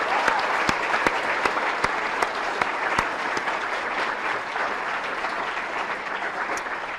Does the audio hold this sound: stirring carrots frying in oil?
no